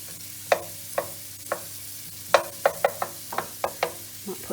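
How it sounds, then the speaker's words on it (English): Onions sizzle in hot oil with a steady crackle while cooking chilli con carne, broken by a series of sharp stirring or scraping clatters spaced irregularly across the clip. "Let that sizzle away."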